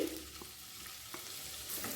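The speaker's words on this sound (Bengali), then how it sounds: "পনিরটাকে আস্তে আস্তে তেলের মধ্যে ছেড়ে দিচ্ছি" A steady, quiet sizzle of paneer frying in oil, with a few soft clinks and stirring sounds, no talking.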